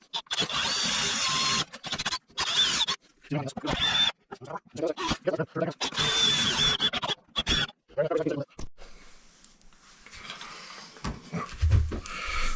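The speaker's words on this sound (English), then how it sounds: "we're going to use our hole saw bit and we're going to get all the way through this" A hole saw bit cuts through material in bursts of high, whining drilling that stop and start, with someone talking in between the runs.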